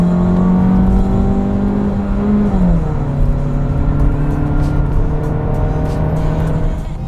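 A 2022 Mazda 3 hatchback engine hums steadily while driving, its pitch dipping briefly as it shifts, with continuous road and tire noise close by.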